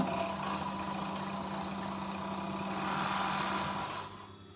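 A sewing machine runs a steady, even hum while stitching a seam on a mermaid skirt, close by and continuous until it stops near the end.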